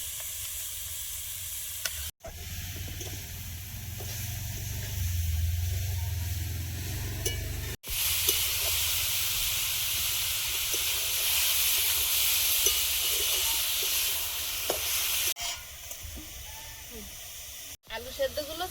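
Vegetables with turmeric and carrot fry in a pan with a strong, steady sizzling hiss that runs for long stretches, broken by a few sharp cuts, with voices talking underneath at times.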